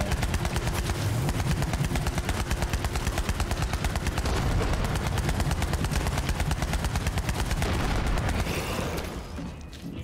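AK-style assault rifle in Borderlands 3 fires in one continuous rapid automatic stream of close, loud shots that runs nearly ten seconds before trailing off at the end.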